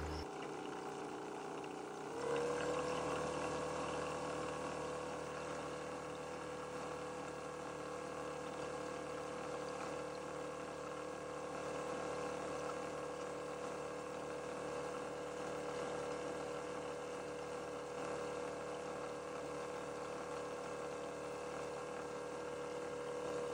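A Hobbywing Fusion Pro 2-in-1 2300kv brushless motor spins on a dyno near 2200 RPM while overheating, giving a steady, continuous whine and hum that shifts pitch slightly after a couple of seconds and then holds constant.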